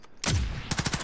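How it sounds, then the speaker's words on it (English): A pistol firing explosive bullets in the video game Call of Duty Warzone: one loud gunshot blast followed by a rapid burst of several more close shots, with no talk. "I shot him."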